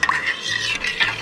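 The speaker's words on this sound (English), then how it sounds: "we're just going to stir that continually until it's boiling" A spoon scrapes and swirls through pectin and water in a pot on the stove, close, quick stirring strokes with light clinks against the metal.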